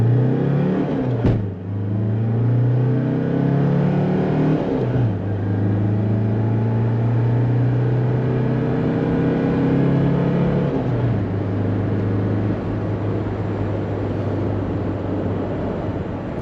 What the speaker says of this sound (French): que serait un essai auto sans son petit 0 à 100?